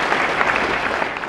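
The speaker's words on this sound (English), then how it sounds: "Let's give her a round of applause." A brief burst of audience applause welcomes speaker Dr. Jane Beck to an evening talk, steady clapping from a crowd lasting just over a second.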